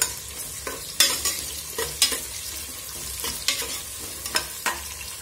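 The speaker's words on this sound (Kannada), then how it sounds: "ಇವಾಗ ಈರುಳ್ಳಿ ಫ್ರೈ ಆಗ್ತಾ ಬಂತು" Onions frying in hot oil for chicken biryani give a steady sizzle, punctuated by sharp, frequent spatula scrapes and stirs against the pan, close and fairly loud.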